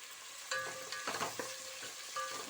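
Potato pieces fry in a pan and are stirred, a steady close sizzle broken by scraping stirs and small pops.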